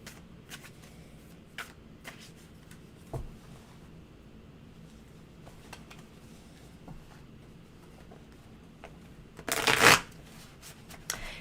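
Tarot cards are shuffled close by in a short, loud riffling burst, after a stretch of faint handling noise and small scattered taps.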